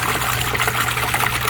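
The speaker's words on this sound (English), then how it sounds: "We're gonna turn the pump back on. And this is just rinsing the media out" An aquarium pump on a 600-gallon tank runs water through filter media being rinsed, giving a loud, steady splashing trickle with a low constant hum beneath it and no talking.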